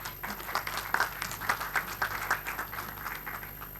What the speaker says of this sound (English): Please welcome with a hearty applause.